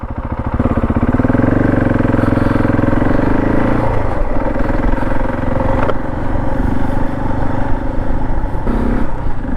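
A Husqvarna 701 motorcycle loaded with luggage rides along, its engine drumming loud and steady throughout, with a change in engine note around the middle as the rider shifts or eases off.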